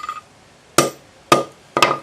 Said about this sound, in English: when you're hammering on the wood will actually give a bit